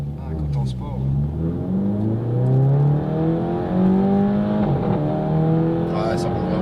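A Seat Leon FR with a 1.8 TSI 195 hp engine revs hard through its exhaust, pitch sweeping up and down through several loud, close gear pulls, with voices in the cabin underneath.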